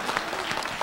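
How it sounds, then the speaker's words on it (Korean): Applause from a church audience honouring the women, a short burst of dense clapping from a crowd filling the moment. "우리 여자들 위해서 박수 좀 한번 쳐줘."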